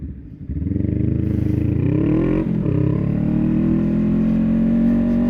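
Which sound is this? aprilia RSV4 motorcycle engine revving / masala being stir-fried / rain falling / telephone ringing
aprilia RSV4 motorcycle engine revving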